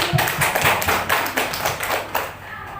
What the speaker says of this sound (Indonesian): tepuk tangan untuk kita semua Bapak dan Ibu